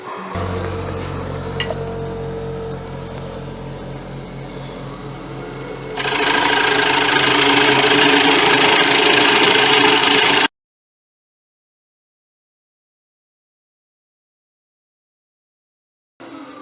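A lathe makes a slow, gentle finishing cut on a 17½-inch tiger wood and resin bowl: a steady machine hum that turns louder and brighter once the tool engages, then stops abruptly into silence.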